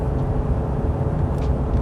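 A Ram 1500 with a 5.7L HEMI V8 towing a load in 5th gear at about 3,800 RPM, giving a steady, dense, close engine drone with road roar that holds constant throughout.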